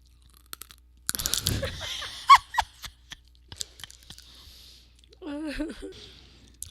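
Sunflower seeds are cracked and chewed close to the microphone, with a burst of crunching and crackly bites, scattered clicks, then a brief murmured voice near the end.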